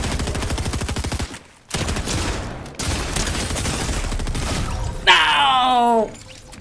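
Rapid gunfire bursts from the Fortnite video game, dense rattling shots filling most of the clip with brief gaps, ending in a sharper burst and a falling tonal effect.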